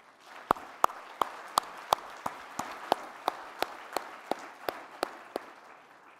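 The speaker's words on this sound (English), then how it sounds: "Let us give all of them a round of applause." Audience applause at a formal address on Korean reunification, heard as a run of sparse, sharp separate claps spread evenly over several seconds, moderately close and steady, with no voices on top.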